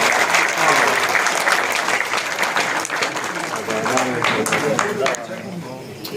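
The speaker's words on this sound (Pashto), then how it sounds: "چکچک وکړئ." Guests at a wedding party in Afghanistan breaking into sustained applause, a dense, even roar of clapping from a large crowd that holds steady for several seconds before easing slightly.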